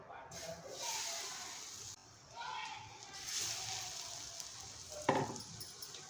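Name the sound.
bread pudla frying in oil in a pan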